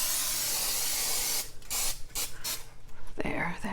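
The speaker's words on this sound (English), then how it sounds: "I'm just gonna spray it." Cooking spray hisses onto a pan in the kitchen, first as one long steady burst and then as several short, sharp squirts close by, with no talking.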